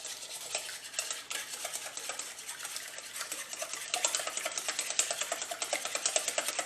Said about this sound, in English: we're just going to give this a nice whisk until everything is incorporated